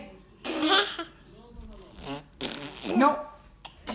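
A baby blows spitty raspberry noises imitating farts, two or three wet sputtering bursts close by, with an adult's voice breaking in between them.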